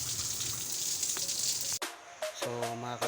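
River water at an eco park rushes in a steady, waterfall-like gush for a couple of seconds, then cuts off abruptly and gives way to a different tonal sound.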